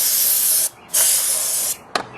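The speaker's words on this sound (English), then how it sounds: "If you see any dirt down in the air cleaner housing down here, just spray it out." Ultra Duster compressed air sprayed into the air cleaner housing of a 2013 Scion tC, two loud close hissing bursts separated by a short pause, then a brief final puff.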